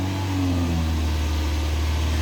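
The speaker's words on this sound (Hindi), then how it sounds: "मैं थोड़ा सा एक्सीलरेटर दबाता हूँ," A used car's engine runs steadily up close, its pitch rising briefly as the accelerator is pressed lightly, then holding a smooth, even drone.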